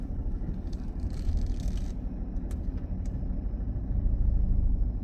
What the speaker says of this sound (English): now reversing back, keeping the car reasonably close to the curb